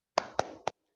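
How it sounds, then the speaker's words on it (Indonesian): A classroom does a spirit clap, three crisp, evenly spaced claps ringing out close and clear, followed by silence. "Tepuk semangat."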